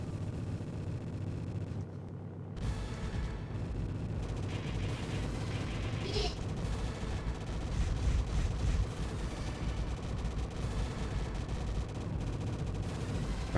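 Rapid, dense gunfire and explosions from the Progear arcade shooter game, a continuous barrage of shots layered over the game's background sound throughout.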